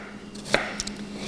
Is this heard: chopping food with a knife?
yes